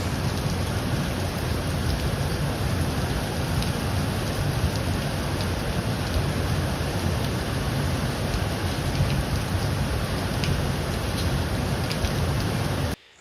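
Heavy rain pours down steadily during severe flooding in Catalonia, Spain, a dense, unbroken roar of water close by that holds an even level throughout, then stops abruptly at the end.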